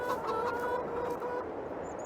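Chickens in the Farming Simulator 22 video game cluck and murmur steadily in a soft, continuous flock chatter, fairly faint with no talking.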